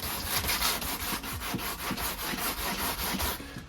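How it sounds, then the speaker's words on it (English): Rhythmic back-and-forth sanding strokes rasp against a carbon fiber RC car body (Arrma Limitless), about four strokes per second, close and steady. "Just want to keep the inside of it sort of solid while I'm going to be sanding it."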